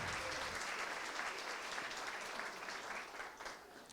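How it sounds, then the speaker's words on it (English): Audience applause at a general membership meeting, a steady, fairly faint wash of many hands clapping that runs throughout and thins slightly toward the end. "Let's all give them a round of applause, please."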